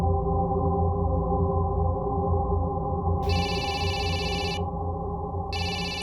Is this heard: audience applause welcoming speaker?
no